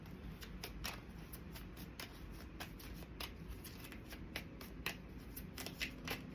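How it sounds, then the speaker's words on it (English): Tarot cards being shuffled by hand, a run of quick, crisp riffling snaps and flutters repeating in bursts at close range, fairly quiet, with no talking. "Am I shuffling the wrong way?"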